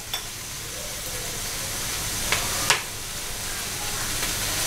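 Capsicum frying in a pan as part of a chicken stuffing for bread rolls gives a steady, even sizzle, with a couple of sharp metallic taps as a spoon stirs it.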